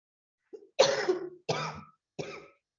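Several harsh coughs from one person during a meeting, a short throat sound followed by three separate bursts, close and loud with no talk.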